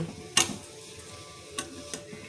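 Wheat rava and vermicelli dry-roasted on a low flame for upma, stirred in the pan: a few soft, close scraping strokes over a quiet background, with no talking.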